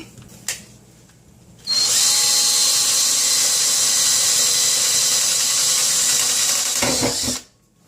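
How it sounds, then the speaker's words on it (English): A power drill whines steadily for about six seconds drilling a pilot hole, loud and close, with a high-pitched squeal, then winds down and stops. "I'm going to start with a smaller drill to start a pilot."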